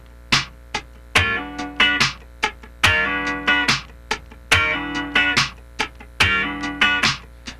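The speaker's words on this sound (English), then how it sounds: "The first one is the slide, holding the left hand down and floating the right hand" Clean funk rhythm guitar slides into a ninth chord, left hand held down while the right hand floats, giving rhythmic bursts of chord strums with brief muted gaps, repeating in a steady groove, close and alone.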